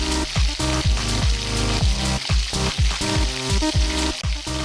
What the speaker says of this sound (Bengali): গরম গরম ঝাঁঝালা সর্ষের তেলে যদি ইলিশ মাছের দাগাগুলো এভাবে পড়ে